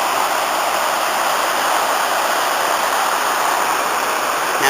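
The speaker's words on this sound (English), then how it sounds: "More rapids." River rapids at the Betws y Coed waterfalls, where the river runs close to 100 yards wide, make a dense, even rushing roar, loud and steady throughout with no voices.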